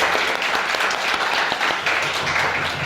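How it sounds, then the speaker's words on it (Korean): A church audience claps in thanks, a dense, steady burst of applause from many hands filling the room for a few seconds. "우리 감사의 박수 한번."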